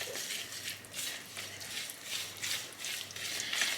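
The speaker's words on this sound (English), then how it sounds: "you mix it in for your dry ingredients" A fork stirs an egg mixture into dry ingredients for gluten-free muffins in a bowl, giving rapid, rhythmic scraping and clicking strokes, close and continuous with no talking.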